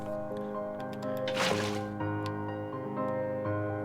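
Water placed in a Minecraft Bedrock cave near an abandoned mineshaft, a soft burst of liquid splash and flowing gurgle over quiet game background music and tones.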